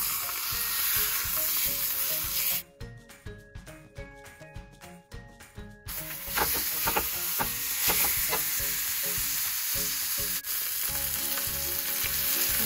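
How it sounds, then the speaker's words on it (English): Steak fat searing on a grill: a loud, dense sizzle crackles close up throughout, briefly dropping away as the meat is lifted and turned, then surging back with sputtering pops. "So all sides of the steak actually get seared."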